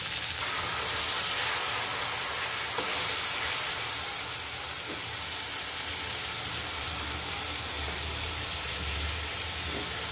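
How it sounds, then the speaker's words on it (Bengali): Onion and chili paste fries in a pan, a loud, continuous sizzle and hiss close up with some low rumble underneath, steady throughout. "পেঁয়াজটা ভাজা হোক"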